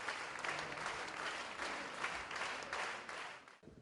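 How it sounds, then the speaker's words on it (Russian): Steady audience applause fills a concert hall after a jazz singer's performance, a dense, even wash of many hands clapping at a distance, sustained throughout before tapering at the very end. "Каждое выступление певицы сопровождалось громкими аплодисментами."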